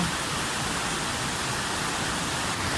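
Steady, dense broadband rush of water at the first tier of Pha Sawan waterfall, a continuous close roar with no pauses and no voices.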